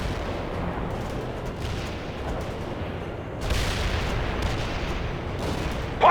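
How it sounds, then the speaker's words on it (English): Continuous rumbling battlefield din of artillery fire in the World in Conflict game, dense low booms and crackle throughout at steady loudness, swelling slightly in the second half. "Ivan is calling in artillery on your position."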